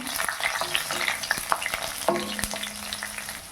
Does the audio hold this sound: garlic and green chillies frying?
yes